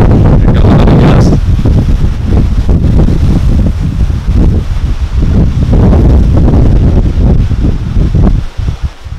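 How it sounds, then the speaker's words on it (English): Strong Hurricane Irma wind gust roaring and buffeting loudly against the microphone, a heavy, continuous rumbling rush with rustling debris, close and overwhelming throughout. "Here comes another gust."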